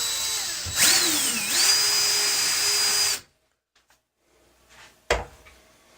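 A power drill enlarges a hole for brass shelf support pins, whining loudly at steady speed for about three seconds with a brief pitch dip as it bites, then stops, leaving near silence and a sharp knock.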